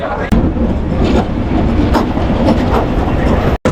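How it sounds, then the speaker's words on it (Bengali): A passenger train rolls into a station in Bangladesh, loud rumbling and rhythmic wheel clatter, with a sharp cutoff at the end. "রংপুরের ট্রেন চলে আসলো"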